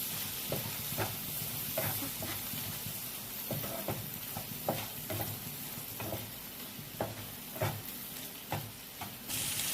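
Parshe fish masala with salt and turmeric fries in hot oil, a steady close sizzle with a regular series of short scraping stirs of a spatula against the pan, no talking.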